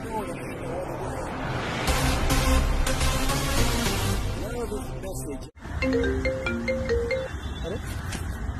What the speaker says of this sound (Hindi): अरे पापा का फोन आ रहा है।